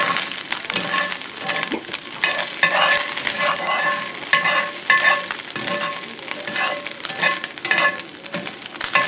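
Spam frying in a pan gives a steady, close sizzle with frequent scraping and stirring strokes of a utensil across the pan, loud and continuous throughout, with no talking.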